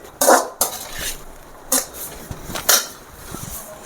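Noodles being stirred in a pan for masala chicken noodles, with a handful of sharp utensil scrapes and clatters against the pan spaced irregularly over a quiet background.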